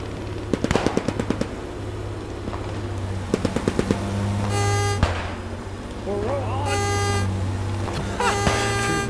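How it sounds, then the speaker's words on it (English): Tractor horn in the World War II shooter Post Scriptum, several loud tonal honks in bursts amid rapid gunfire rattles and a steady engine drone, with players' voices in the background. "Stop honking!"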